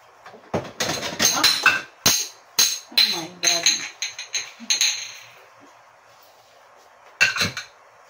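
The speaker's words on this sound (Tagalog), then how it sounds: "Hugas tayo ng plato, guys." Plates and utensils clatter and clink sharply in irregular bursts as dishes are washed close by, with quiet gaps between the handling and a few softer knocks later on.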